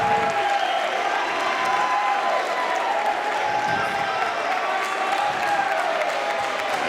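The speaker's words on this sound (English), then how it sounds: "The Milford crowd loving it." A high school basketball crowd in a gym cheers and applauds continuously after a made basket, a loud sustained roar of clapping and voices.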